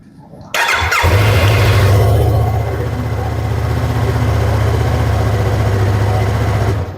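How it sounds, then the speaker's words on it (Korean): A motorcycle engine cranks and catches after a battery and fuse check, then settles into a steady loud idle close by that runs on without pause. "어, 시동이 걸리네요."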